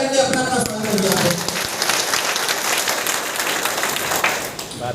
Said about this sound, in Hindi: एक बार जोरदार ताली बजा करके अपना अपना स्वागत किया